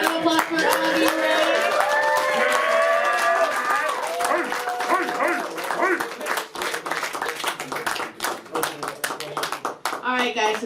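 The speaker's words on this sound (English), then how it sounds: "All right, everybody, a round of applause for Augie." An audience at a live interview event breaks into clapping mixed with loud whoops and cheering voices, strong at first and thinning to scattered claps toward the end.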